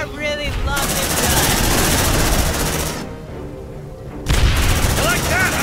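Rapid automatic gunfire from a weapon in the video game Aliens: Dark Descent roars in dense, loud bursts, breaks off briefly into a quieter lull, then resumes sharply over the game's background din.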